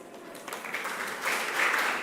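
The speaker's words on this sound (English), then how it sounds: "The clap is too small." An audience applauds at the close of a mentorship session, a dense wash of clapping that swells and grows louder toward the end.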